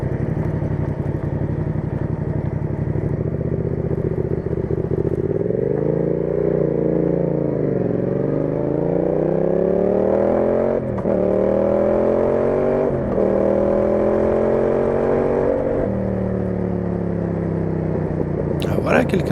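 Motorcycles ride along badly broken, potholed roads with a loud, steady engine drone up close, the pitch swelling and dipping as the throttle changes throughout.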